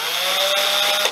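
A drill countersinks holes in a lathe-turned aluminium cylinder for an underwater camera housing, giving a steady, close, bright whine with a constant pitched tone throughout and no talking.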